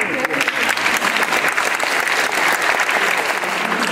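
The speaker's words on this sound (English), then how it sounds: "If you'd like to stand just for a round of applause" A concert audience gives a full round of applause, dense and continuous clapping with no pauses across the whole span.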